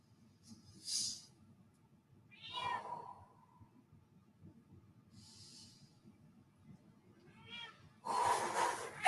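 A house cat meows a few times indoors during a stretching session, short faint cries separated by long quiet gaps and soft breathing, with a louder noisy burst at the end.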